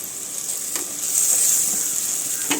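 Ground coconut is mixed into sardine fish curry in a clay pot, a steady hiss and sizzle with a couple of soft stirring knocks, close and even.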